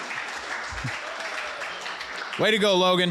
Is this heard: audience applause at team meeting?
yes